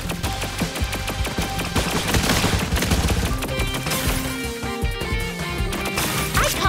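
A pop shooter weapon fires in the side-scrolling action game Spidersaurs, a loud rapid stream of popping shots over busy game music, with no talking.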